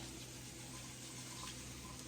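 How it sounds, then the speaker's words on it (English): Rice being rinsed and swirled in a bowl of water, a steady soft wash of sloshing liquid that runs continuously and fairly faintly throughout, with no speech over it. "you just kind of pour off some of that, and you keep doing the rinse, and you just swirl it around"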